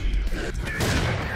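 A rocket launcher fires in the shooter game Serious Sam 4: one brief, loud blast with a rushing burst near the end of a short, noisy moment.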